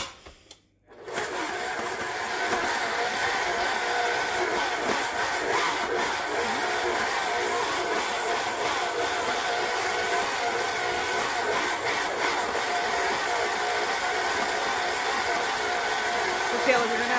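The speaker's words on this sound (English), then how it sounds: "Now we're going to mix that up." An electric mixer whirs steadily for about sixteen seconds while mixing Oreo cookie dough of sugar and butter, a constant close buzzing motor drone after a brief starting clatter.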